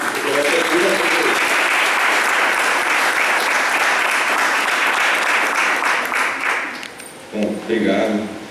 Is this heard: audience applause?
yes